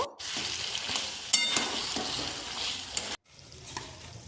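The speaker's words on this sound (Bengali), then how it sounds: "আলুগুলো দিয়ে মশলাকে আবারও কিছুক্ষণ কষিয়ে নেব।" Potatoes sautéing with spices in a pan for chicken curry, a steady close sizzle with stirring scrapes for about three seconds before it cuts abruptly, then quieter frying continues.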